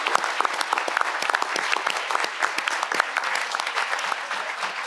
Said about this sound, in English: show your enthusiastic applause to all these candidates for showing up today